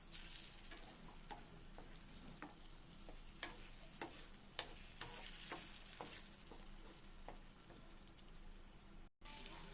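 Mint thuvaiyal (Tamil chutney) gently warming in a pan over a low flame, giving a soft continuous sizzle with scattered light pops and clicks throughout, close and steady, with no voices.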